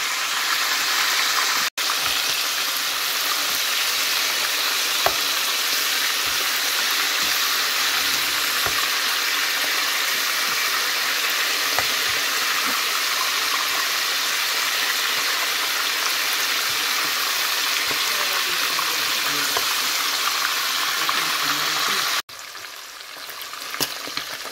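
Meat frying in oil for tiébou yapp, a steady, close crackling sizzle that runs unbroken for about twenty seconds before dropping off slightly at the end, with faint stirring clinks and no talk.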